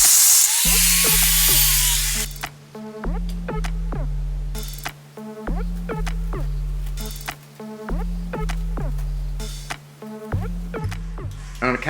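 A drill bores holes into candelabra legs to take dowels, close and loud, whirring in a series of short bursts that start and stop with brief gaps between them.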